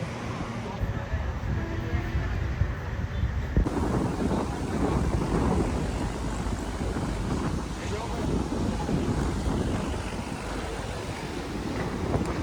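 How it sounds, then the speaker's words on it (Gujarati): Steady, cool wind blows across an open outdoor location during a wedding outing, buffeting the microphone in a constant loud rush that lasts the whole stretch. "એકદમ મસ્ત મસ્ત ઠંડો પવન આવે છે."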